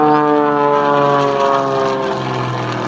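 A propeller aerobatic airplane performing figures at the 2012 Kraków air show in Poland, its engine droning loud and steady with strong harmonic tones that shift slightly in pitch as it manoeuvres, with no voices.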